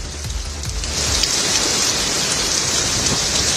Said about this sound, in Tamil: இதேபோல மேற்கு வங்க தலைநகர் கொல்கத்தாவில் புயல் காற்றுடன் கனமழை பெய்தது.